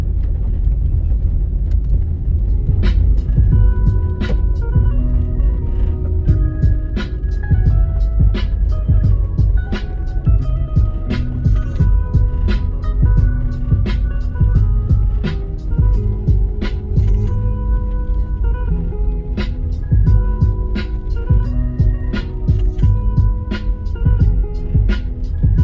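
A car rolling through the residential streets of East Kirkland Heights in Kingston, Jamaica, with a steady low engine rumble and road noise throughout, punctuated by faint clicks and rattles inside the cabin.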